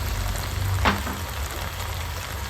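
Crab masala for a spicy crab curry frying in a pan, a soft steady sizzle with a brief scrape of stirring near the middle, close and quiet, no voices.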